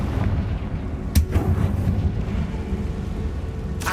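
A Confringo blasting spell explodes in Hogwarts Legacy, a sharp loud crack followed by rumbling debris and a second burst near the end, over a dense low background din.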